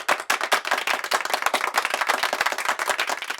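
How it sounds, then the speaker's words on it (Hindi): Applause for a comic scene set in Yamaloka in a film, dense rapid clapping from many hands, loud and continuous, with no talk over it. "तालियां।"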